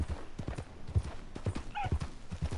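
Horse hooves clip-clop in a steady trotting rhythm in a PS4 video game, fairly faint, with a brief whinny-like call partway through and no talk.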